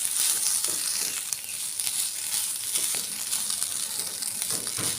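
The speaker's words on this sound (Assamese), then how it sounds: "ধুনীয়াকৈ নাৰিকলখিনি অলপ সময় ভাজিম।" Grated coconut fries in melted butter in a wok, giving a continuous soft sizzle and crackle with occasional stirring scrapes, close and steady.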